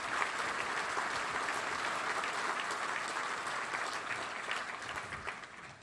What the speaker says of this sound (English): A round of applause for all of the nominees.